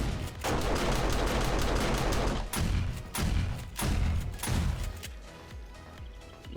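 Automated turrets in a video game fire in long, loud bursts of rapid gunfire, with short breaks between volleys near the end.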